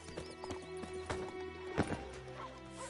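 Roach, a horse in The Witcher 3 game, galloping with rhythmic clip-clop hoofbeats and a short neigh, steady and close for a few seconds.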